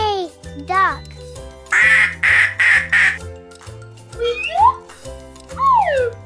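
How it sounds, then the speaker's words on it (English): Several quacks from a duck come in short bursts, some loud and nasal, others sliding in pitch, over a steady background music beat. "Duck. Duck."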